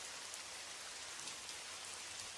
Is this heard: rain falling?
yes